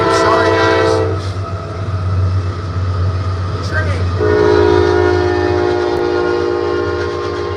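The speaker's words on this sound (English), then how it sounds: "here comes a train" A train rumbles past close by while its horn blares in long, loud blasts, broken by a brief gap, with wheels clattering underneath.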